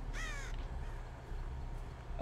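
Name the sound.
crows cawing in Dead by Daylight video game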